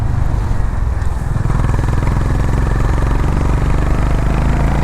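Honda Highness CB 350 motorcycle engine running steadily while riding, a loud, continuous low thrum with rhythmic mechanical pulsing and clatter, close up throughout with no talking.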